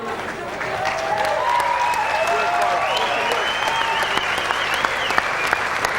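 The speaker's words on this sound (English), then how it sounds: "And a round of applause too for the last-minute ringing." Sustained applause from a boxing crowd fills the hall after a knockout, steady clapping with scattered whistles and cheers rising above it.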